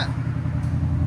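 A 2024 Ford Mustang GT 5.0L V8 with Valvetronic Designs mufflers gives a brief, loud, close idle rumble after a rev, with a deep, steady burble.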